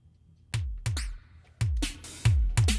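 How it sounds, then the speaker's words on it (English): Vintage analog-style electronic drums from the UJam Beatmaker Circuits plugin: punchy booming kicks alternate with snappy snare and clap hits and short zaps in a steady groove, close and dry, no talk. "it has a lot of these vintage analog style drum sounds"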